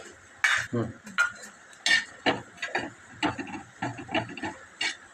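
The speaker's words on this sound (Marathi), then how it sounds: "थोडंसं सुकं खोबरं पण भाजून घेऊया" Dry coconut roasting in a pan for a quick chutney, a sequence of close, crisp scraping and clinking strokes as it is stirred, irregular but steady, dry with no sizzle and no talking.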